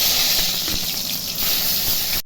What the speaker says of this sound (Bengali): আগে বেগুনটা ভেজে নিচ্ছি কড়াই তেল দিচ্ছি গরম হয়েছে